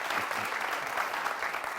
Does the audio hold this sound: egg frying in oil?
no